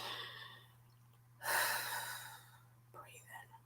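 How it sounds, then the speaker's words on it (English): A single slow, deep, breathy exhale during a guided prayer is heard close to the microphone, followed by a softer breath, in an otherwise quiet room with a low steady hum. "Breathing, breathing,"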